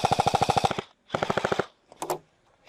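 Airsoft guns firing outdoors in rapid full-auto bursts: a long, evenly spaced string of snappy shots, a short pause, a second burst, then a lone crack.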